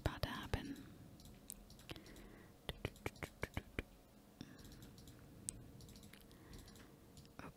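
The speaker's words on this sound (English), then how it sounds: "very intense mouse clicking sounds about to happen" Sharp, rapid computer mouse clicks during Minecraft survival gameplay come in irregular bursts and clusters, close and crisp, with soft whispering in the background.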